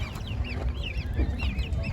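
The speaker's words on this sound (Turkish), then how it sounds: "Şurada da köy civcivlerimiz var" Village chicks and other poultry at an Ankara poultry market, a busy chorus of high rapid peeps over low background rumble and bustle.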